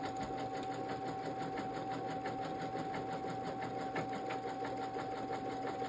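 An embroidery sewing machine stitching out a design in polyester thread, running with a steady fast needle rhythm and a constant motor hum, close and continuous throughout with no talking.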